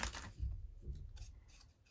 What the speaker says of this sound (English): Do I want to fussy cut it?